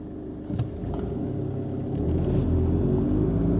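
A 2015 Seat Leon ST wagon pulling away from a standstill, its engine rumble steady and close, swelling gradually into a smooth, heavier drone as it gathers speed, with no voices.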